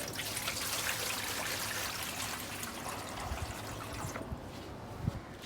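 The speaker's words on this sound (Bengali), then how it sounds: "পানি ঢেলে দেই" Collected rainwater pours steadily into a container for pigeons to bathe in, a soft, continuous splashing trickle heard at close range.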